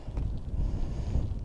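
Wind buffeting a microphone on an open hill summit in the Shropshire countryside; a loud, low, continuous rumble with gusty swells and no clear talk.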